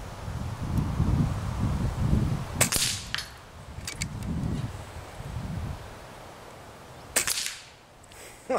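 An Air Venturi Avenger PCP air rifle fires outdoors, giving a few sharp cracks heard over gusting wind noise and rustling, with a final snap at the very end.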